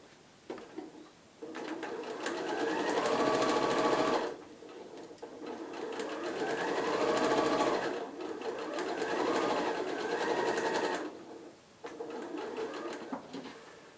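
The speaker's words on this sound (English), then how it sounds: "I've stitched across the top, stitched across the bottom" A sewing machine stitches the top and bottom seams of a shaped fabric face mask at a 1/4 inch seam allowance. It runs in three loud bursts of whirring, close by, separated by brief pauses, with no voices.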